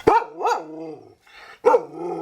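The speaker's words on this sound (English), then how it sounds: "He's been barking at me to get this job done." A dog barks loudly and close by, two quick barks, then a pause and one more, with nobody speaking over it.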